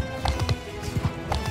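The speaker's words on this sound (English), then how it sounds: "Cavalry charge!" Cavalry horses gallop in a charge in Mount & Blade II Bannerlord, a steady run of hoofbeats with rhythmic clip-clop thuds close by, over a busy layer of battle noise.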